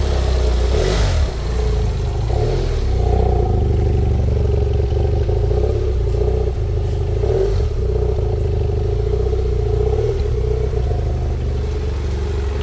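A BMW F800GS 30th Anniversary Special motorcycle engine runs loud and close with a steady rumbling idle, a few mild blips of revs rising and falling over it.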